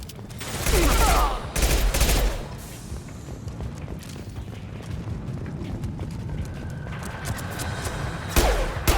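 Gunfire erupts in the Mass Effect Legendary Edition video game, loud bursts of rapid shots in two close clusters near the start, then scattered cracks and clatter of combat fading into a softer background.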